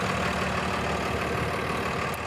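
Steady broadband engine rumble from a Cummins 8.9 liter diesel idling in a 2023 Freightliner M2 106 truck, heard up close as a constant, even drone without pauses or voices.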